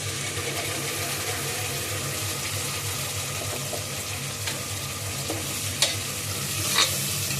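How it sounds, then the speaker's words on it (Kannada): Ground masala paste fries in hot oil in a pan while being stirred: a continuous close sizzle with occasional scraping clicks of the spoon, and no voices. "ಹಸಿ ವಾಸನೆ ಹೋಗೋ ತನಕ ಸ್ವಲ್ಪ ಫ್ರೈ ಮಾಡ್ಕೊಳ್ಳಿ"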